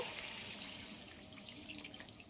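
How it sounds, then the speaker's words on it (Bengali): Water poured into a cooking pan of spiced sauce, a short, steady splashing rush with faint bubbling, fairly quiet and close. "এবার এতে পরিমাণ মতো জল দিয়ে দেব"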